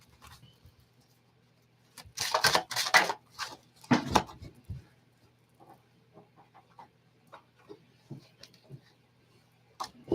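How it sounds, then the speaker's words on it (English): Tarot cards are shuffled by hand, with a few brisk riffling bursts early on, then quieter, scattered clicks and taps of the cards being handled. "I'm going to shuffle those just a little bit more"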